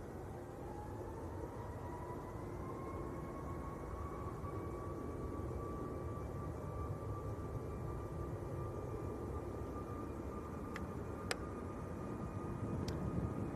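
A Corendon Airlines Boeing 737 Max departs Manchester Airport for Antalya, its engines a faint, distant roar with a steady high whine running underneath the wash of noise.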